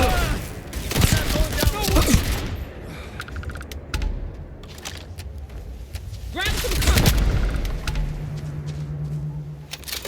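Gunfire in the video game Starfield, with bursts of rapid shots and impacts mixed with game effects and a low hum, loud and close, while voices talk during the fight.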